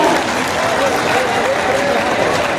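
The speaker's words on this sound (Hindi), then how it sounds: "जोरदार तालियों से उनका उत्साह बढ़ाएं" Crowd applause at a government development-project ceremony with the chief minister, a broad, sustained wash of clapping and crowd noise that stays loud and even from start to finish.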